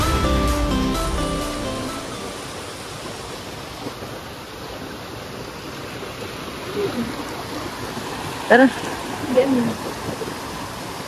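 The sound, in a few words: river water flowing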